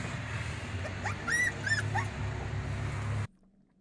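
A young dog whimpering in a video played back: several high, thin yips and whines clustered over a couple of seconds, moderately close over a constant low hum and hiss, then the sound cuts off abruptly.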